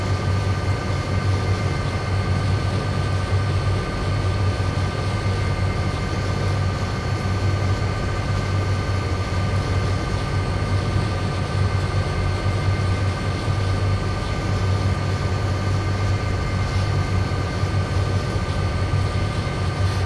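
A Southern Pacific Dash 9 diesel locomotive in Train Simulator on the Donner Pass route, a loud, continuous low engine drone with steady humming tones, unbroken and without speech throughout.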